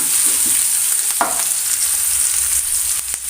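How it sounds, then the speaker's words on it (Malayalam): Curry leaves wilting in hot oil in a pan for a Kerala-style drumstick flower thoran, a loud, steady crackling sizzle with a few sharp stirring knocks, heard close. "കുറച്ച് കറിവേപ്പില കൂടി ഇട്ട് കൊടുക്കുന്നുണ്ട് അതൊന്ന് വാട്ടിയെടുക്കാം"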